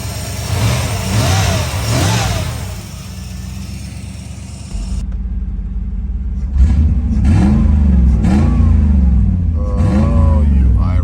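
A Peterbilt 389 truck engine warms up at idle, then revs in repeated rising pulls, loud and close, with a deep rumbling low end and brief pauses between revs.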